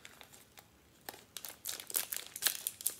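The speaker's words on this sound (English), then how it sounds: "I have to do it with the scissors" Crinkling plastic dark chocolate ginger snack wrapper handled close up, with a few sharp scissor snips and rustles growing busier toward the end.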